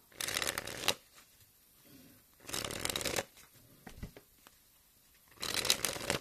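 Copag 310 playing cards are shuffled in three distinct bursts of crisp riffling, each about a second long, with quieter handling and soft card sounds between them, close up and with no talk.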